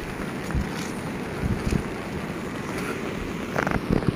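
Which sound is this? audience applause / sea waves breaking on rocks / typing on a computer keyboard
sea waves breaking on rocks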